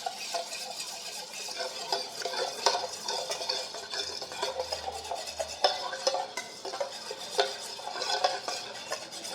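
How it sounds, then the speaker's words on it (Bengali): A spoon whisks yogurt starter culture in a bowl, making a quick, continuous run of scraping, clinking strokes at an even rhythm, close and fairly loud with no talking. "এই ছাঁচটাকে এখন খুব ভালো করে আমি ফেটিয়ে নেব।"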